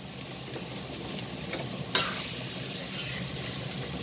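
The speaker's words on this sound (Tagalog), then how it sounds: "Halo na lahat, ulam at saka ang kanin. Fried rice." Vegetable fried rice is stir-fried in a pan, rice and toppings mixed together under a steady sizzle, with scraping stir sounds and one sharp clack of a utensil midway.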